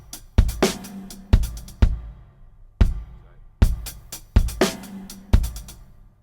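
A drum kit plays a subdivided pattern, with sharp kick and snare hits and crashing cymbals landing in irregular clusters, close and fairly loud, with no talking.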